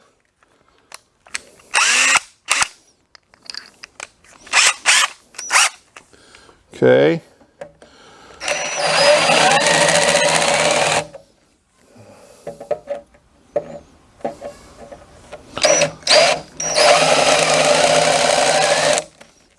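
A power drill with a larger bit bores holes during a rail installation, whirring in repeated bursts that include two sustained runs of several seconds each, separated by short taps and pauses, with a brief spoken word between.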